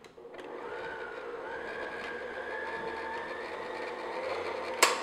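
An electric mixer whirs steadily at low speed as it beats ground almonds into Linzer cookie batter, a continuous mechanical hum with a short clatter near the end.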